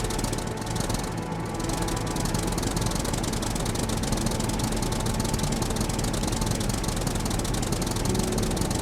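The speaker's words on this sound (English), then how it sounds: "it's so friggin' loud inside of this tractor" A tractor engine runs in the video game SCUM, a loud, continuous rattling drone with a steady knocking pulse, heard alone and close throughout.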